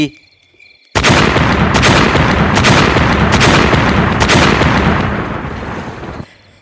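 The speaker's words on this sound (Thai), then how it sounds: "เสียงระเบิดไม่น้อยกว่าห้าครั้งดังขึ้นมาติดๆกัน" At least five grenade blasts go off in rapid succession as a loud, continuous roar of explosions that holds for several seconds before cutting off.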